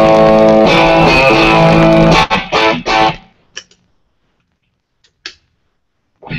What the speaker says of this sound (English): So that's kind of combining two different types of overdrives as well.